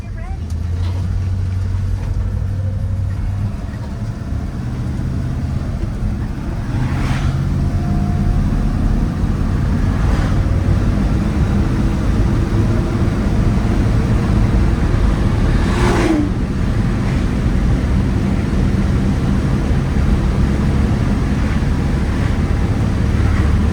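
A 1986 Ford F-150 4x4 pickup with a 302 V8 and automatic transmission cruises along, its steady low engine drone and road rumble continuous throughout, with faint interior rattles over the top.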